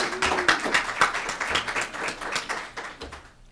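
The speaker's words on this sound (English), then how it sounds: "please give him a round of applause" A panel audience at a community media policy training gives a speaker a round of applause, steady mid-sized clapping throughout that slowly thins out toward the end.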